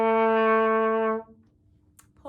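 A trumpet holds one sustained, bright note for about a second in a beginner exercise, then stops; a faint click or breath follows after a short gap.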